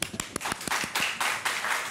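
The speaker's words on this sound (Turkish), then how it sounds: "Bir alkışın." Studio audience applause on a Turkish daytime television talk show, a brief burst of scattered hand claps, close and uneven, with no talk over it.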